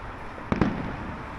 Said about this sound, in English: this street you can spot the fireworks better. And it is, we found the fireworks.